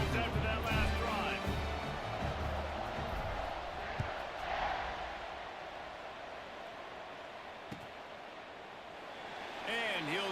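A stadium crowd in a college football video game roars as a continuous wash of cheering and noise, louder at the start and end, with commentary voices over it.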